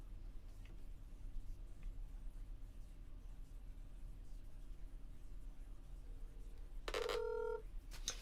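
A telephone rings out once, briefly, near the end of a call to the Willoughby, Ohio Police Department, after a long stretch of faint line hiss.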